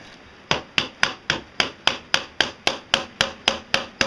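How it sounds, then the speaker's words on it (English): Fourteen sharp, evenly spaced hammer blows in a steady, quick rhythm, close and loud, each with a short ringing decay, while building a styrocrete foam grinder from junk. "And I have to hammer it."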